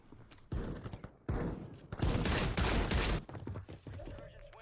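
Rapid, loud shotgun blasts from akimbo shotguns in a first-person shooter match, several booming shots close together with some rattling clatter between them.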